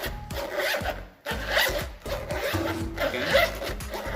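A zipper on a bike repair tool kit bag is pulled open in several quick rasping strokes, close up and fairly loud, with a short pause partway through.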